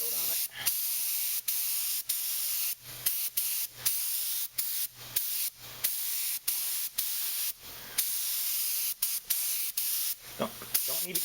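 Light coat of spray paint going onto an AMT 1/1400 scale Enterprise C model kit: a series of short airy hissing bursts, close and fairly loud, separated by brief pauses, with no talking.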